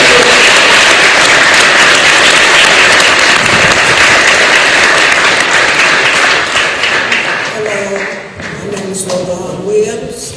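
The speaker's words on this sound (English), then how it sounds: "Y'all please give a big round of applause for a mother who is very on point of her son." A crowd applauds at a news conference about a man killed after a Memphis traffic stop, with loud, dense, sustained clapping that thins out near the end as voices and other sounds come through.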